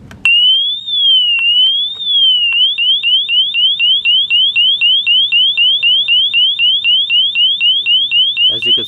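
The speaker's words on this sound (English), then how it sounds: "see if we could get that warning alarm to go on" A bike anti-theft alarm sounds its warning mode up close and loud, an electronic tone that sweeps slowly up and down a few times, then turns into a fast train of repeated chirping sweeps before cutting off.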